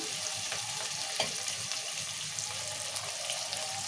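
Onion, tomato and curry leaves fry in a pan for a masala brinjal curry, giving a steady broadband sizzle with a faint stir clink near the middle and no voice.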